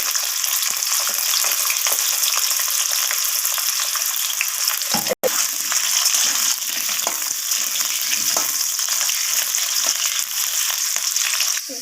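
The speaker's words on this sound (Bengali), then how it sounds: "তো আলুগুলোকে আমি লাল লাল করে একটু ভাজা ভাজা করে নেব" Cut potatoes frying in hot oil in a pan for a vegetarian cabbage curry crackle in a loud, dense, continuous sizzle up close, with scattered stirring clicks and a short break midway.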